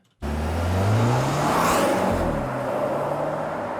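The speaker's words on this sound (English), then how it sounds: "And then we have another of the same car. Again, that whining adds a nice tone." A car engine from Cyberpunk 2077 revs and passes close by, its rising upper-mid whine sustained loudly over a few seconds before easing off.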